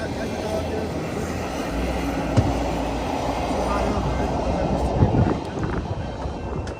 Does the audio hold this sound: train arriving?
yes